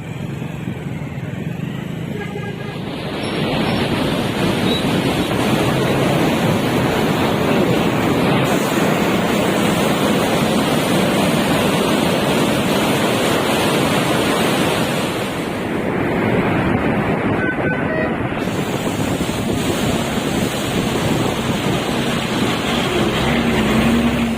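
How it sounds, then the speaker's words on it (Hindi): Floodwater from the Chenab River surging through the Head Panjnad barrage, a continuous heavy roar of rushing water mixed with gusting wind buffeting the microphone, loud and steady throughout. "सिलाबी रेला हेड पांचनद से गुजर रहा है"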